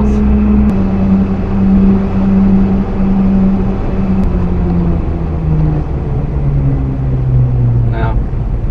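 A mini truck drives along with a steady engine drone and a low rumble, its pitch drifting gradually downward, close and continuous throughout.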